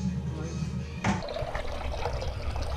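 Water poured into a pot to heat for oatmeal in a home kitchen, a steady splashing pour starting abruptly about a second in and running on at close range under a low background hum.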